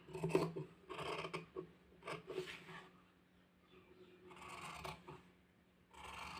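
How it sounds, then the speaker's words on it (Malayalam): Scissors snip through nightie material in several quick bursts with short pauses between them, the crisp close cuts coming alone without speech. "ഉള്ളിക്കൂടെ കട്ട് ചെയ്ത് കൊടുക്കാം കണ്ടോ ഇങ്ങനെ കട്ട് ചെയ്ത് കൊടുക്കണം"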